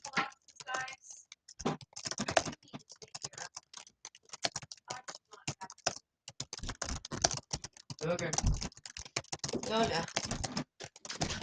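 Rapid computer keyboard typing during a game of Nitro Type, with dense, irregular clicks and clacks close to the mic that run continuously throughout.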